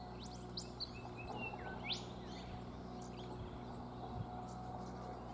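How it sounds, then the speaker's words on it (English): Birds chirp and whistle in Ravensbourne National Park rainforest, Queensland, several bright calls scattered over a steady low background hum, moderately distant. "There's birds down here."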